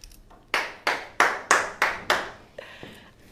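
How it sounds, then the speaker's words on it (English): An interviewer claps their hands in applause: six sharp, evenly spaced claps close to the mic, followed by a fainter single tap and quiet. "So I'm applauding on their behalf."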